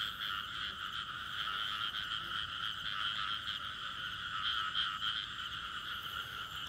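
Female frogs keep up a thick, continuous croaking chorus at a nighttime frog-hunting spot, their pulsing calls blending into an unbroken wall of sound with no one speaking.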